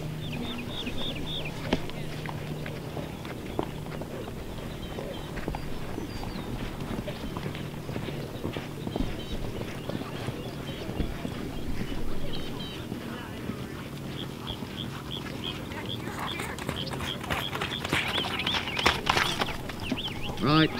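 Horses' hooves clip-clop through a polocrosse match as players line up on the near side, a steady scattered patter under continuous commentary and crowd noise, with clucking poultry audible in the background.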